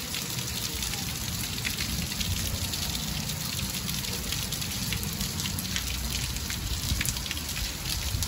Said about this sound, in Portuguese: essas chuvas caídas no nosso sertão central